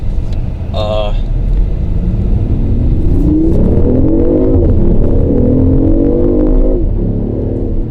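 A BMW i8 supercar accelerating, a loud close engine and motor whir rising in pitch through the run and easing off near the end, with a person talking over it.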